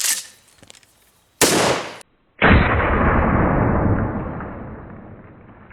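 Two loud shotgun blasts go off close by, each a sharp burst. The second leaves a long, fading rumble of echo after a very brief gap, and faint clicks come before them.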